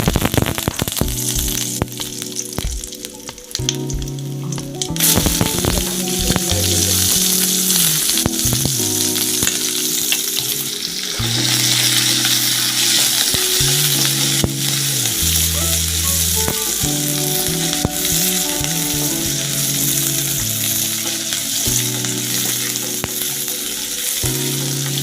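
Curry leaves sizzle loudly in hot oil after fennel seeds in a Tamil home kitchen, a dense, crackling fry with spatter bursts that runs continuously, alone without talk.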